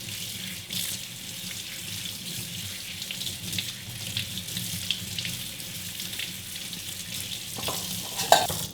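Tap water runs steadily into a sink while abalone intestine is rinsed by hand, with close splashing and light clatter over the flow.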